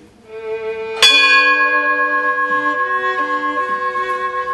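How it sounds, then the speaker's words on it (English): A fire station bell tolls once in honor during a station dedication in Rolling Prairie, Indiana: one loud metallic strike followed by a long, ringing, slowly fading tone that sustains alone through the remainder. "after each name, the bell will toll one time in honor of that firefighter."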